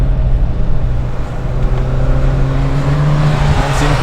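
A Peugeot 205 GTi 1.9 engine pulls steadily and loudly through a gear change, its strong tone continuous and close for about four seconds with no talking.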